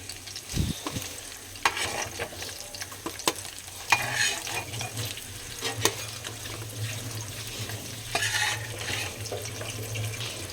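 Fish frying in a pan gives a steady close sizzle, joined by scattered clinks and scrapes of utensils and a little running water in the background.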